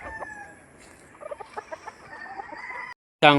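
Gamecock roosters and stags on a Tagaytay game farm cluck in a quick run of sharp, close calls over outdoor ambience, followed after a brief gap by a loud burst of crowing.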